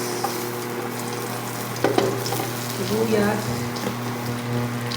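Onion sizzles in a pan for pork sinigang, a steady close frying hiss with occasional stirring scrapes and a faint background hum.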